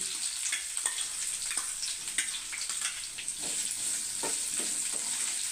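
Sliced onions frying in a pan after lightly fried garlic, with a steady bright sizzle and occasional stirring scrapes throughout.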